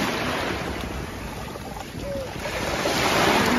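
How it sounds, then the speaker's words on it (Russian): Sea waves wash onto the shore on a morning beach, heard as a steady broadband surf rush with some wind noise, continuous and fairly loud throughout. "У нас сегодня утро начинается с моря."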